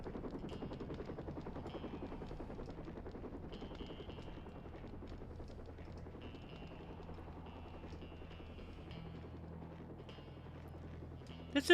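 A helicopter in a retro James Bond video game, a steady low rotor drone running throughout under game music and effects, with a sharp burst at the very end.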